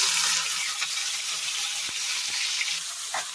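Dried shutki fish frying with turmeric in a pan, a continuous bright sizzle with a few soft spatula taps and scrapes over a short stretch.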